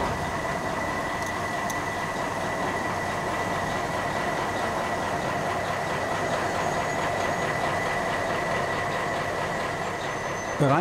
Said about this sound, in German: 332092 rollt im Museumsbaby Nördlingen auf die Scheibe.